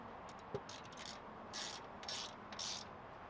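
A 7/16 wrench ratchets a flange nut tight on a Vanspeed Scout roof rack on a Ford Transit van, giving a few quiet, brief bursts of clicking close by.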